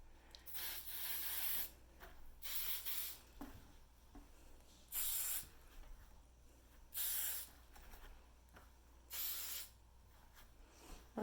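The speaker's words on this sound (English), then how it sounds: "is it allows you to really concentrate that spray where you want it" Root booster hair product sprayed from a pump bottle onto the top of the hair during a volume blowdry, five short hissing bursts spaced about two seconds apart, close and fairly quiet with no talking.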